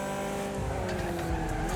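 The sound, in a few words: race cars braking and skidding in video game Wreckfest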